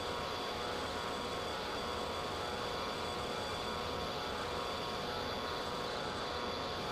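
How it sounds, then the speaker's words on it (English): A steady, loud jet engine drone of a fighter plane in the Strike Fighters 2 flight game, powered by an R-11 engine, a constant broadband roar with faint tonal whine and no talking. "The R-11 is a thirsty, thirsty engine."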